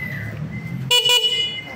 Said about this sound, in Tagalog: Okay, malakas po ang busina.